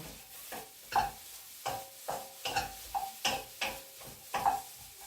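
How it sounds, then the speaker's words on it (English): Vegetables tossed and stir-fried in a wok: a quick series of scraping, clinking strokes against the pan with a soft sizzle beneath, close and moderately quiet, no voices. "just make sure you just toss the vegetables around on your pan"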